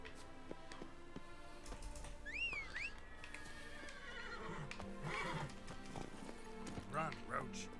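Geralt's horse Roach from The Witcher 3 gallops with steady hoofbeats, and a clear, close whinny rises midway over music and ambient game sound, with a voice speaking in the background.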